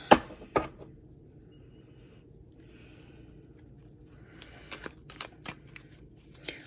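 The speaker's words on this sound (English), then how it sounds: "let me just try to shuffle these up a little bit more." Slippy, slidey tarot cards being shuffled in short riffling bursts, a couple of sharp snaps at the start and a quick flurry near the end, close and fairly quiet.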